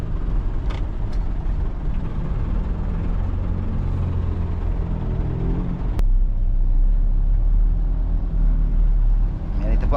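Engine drone of a Fuso Canter truck with manual transmission driving in second gear through Guagua, Pampanga, a steady low rumble with road noise and a brief knock partway through, under someone talking.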